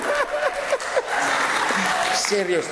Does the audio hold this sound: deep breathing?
no